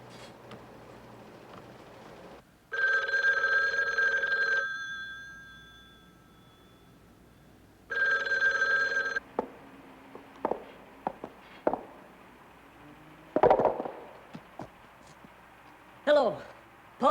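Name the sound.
telephone bell ringing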